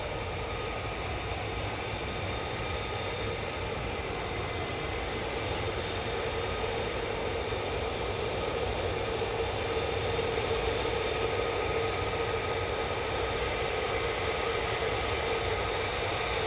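F-35 fighter jets of the 48th Fighter Wing flying, a broad steady roar that holds at an even level for the whole stretch, distant and unbroken, with no voices over it.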